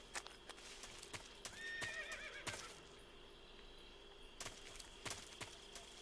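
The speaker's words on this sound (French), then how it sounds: "Un cheval." A horse in Metal Gear Solid 3 neighs with a rising, quavering whinny midway through, among sharp repeated clip-clop hoof strikes, all fairly faint against a quiet game background.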